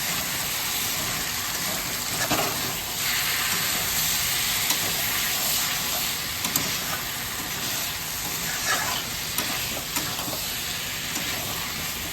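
Spice paste of ginger, green chilli and tomato fries in a pan with a continuous, even sizzle and hiss, broken by faint stirring scrapes and no voices.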